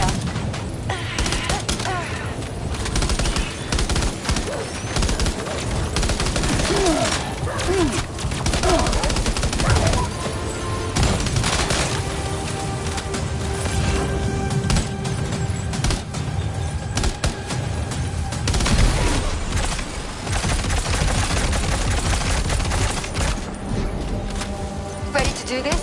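Sustained video-game gunfire fills the scene with dense, rapid volleys of shots and bursts, loud and continuous, with voices talking over the battle.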